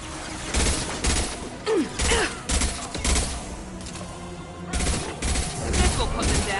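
Rapid bursts of gunfire in the sci-fi shooter Mass Effect 2 come in repeated volleys of shots with short pauses between them, along with faint combat effects and a brief voice.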